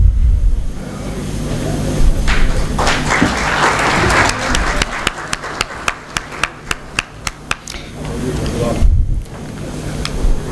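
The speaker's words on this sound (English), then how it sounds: "may I now have the huge round of applause for him" A conference audience applauds the chief guest, a broad wash of clapping that thins into a run of sharp, evenly spaced single claps before fading, with a voice speaking near the start.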